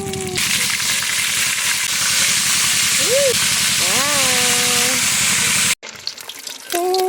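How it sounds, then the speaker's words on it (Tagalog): Shrimp (hipon) frying in hot oil, a steady loud sizzle running throughout, briefly cut off near the end before resuming, with musical tones and a voice talking over it. "iprito na natin ang ating fried shrimp o fried hipon"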